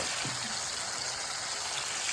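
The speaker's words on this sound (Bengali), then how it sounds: "এখন ভাজা ভাজা হচ্ছে" Vegetables that look like purple cauliflower frying in a pan: a dense, steady, soft sizzle that continues evenly throughout, with no voices.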